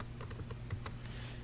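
Typing on a computer keyboard into a browser address bar: a quick run of light, close key clicks in an irregular burst over a low room hum, with no talk.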